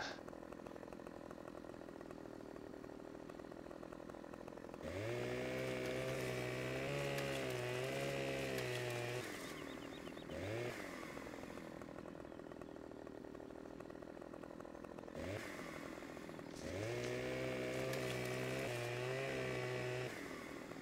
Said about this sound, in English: I wish this chainsaw would cut these hedges just as well as it just debranched that tree.